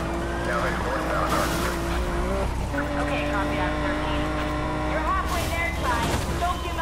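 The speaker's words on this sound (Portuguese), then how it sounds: "Mas esse carro tá derrapando demais" A car in the video game Need for Speed Payback drones with a steady engine tone, broken by brief tire screeches and skids near the middle and end, loud and continuous.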